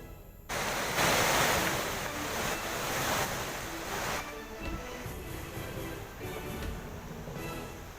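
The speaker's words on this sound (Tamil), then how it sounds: "கொடைக்கானல் பள்ளங்கி கொம்பை மூங்கில்காடு அருகே ஆற்றில் திடீர் வெள்ளப்பெருக்கு ஏற்பட்டுள்ளது" Sudden flash flood on a river near Moongilkadu, Pallangi Kombai in the Kodaikanal hills, a loud continuous roar of rushing water with gusty wind buffeting the microphone, steady throughout with no talking.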